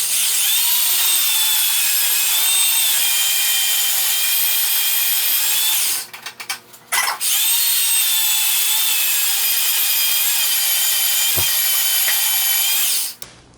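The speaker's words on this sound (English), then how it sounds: "I'm using a porta band here to cut that little notch out of there" A portable band saw cuts a small notch in metal for an outdoor fireplace grilling rack, a loud steady whining rasp that runs unbroken for several seconds, breaks off briefly mid-cut, then resumes and continues until it stops near the end.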